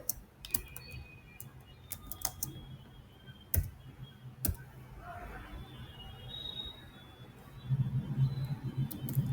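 Sharp, irregular computer keyboard key clicks and a few louder taps from someone coding a React stopwatch, close to the mic, with a voice talking over the later part.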